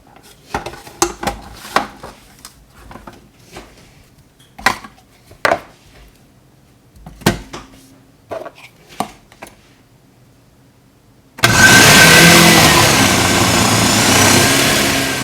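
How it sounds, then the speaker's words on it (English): A food processor chops watery, freshly harvested onions: scattered knocks and clatter of the machine and container come first, then the motor starts abruptly into a loud, steady whirring roar that runs to the end. "you can see while we're food processing here that there's a lot of water in this particular variety of onion"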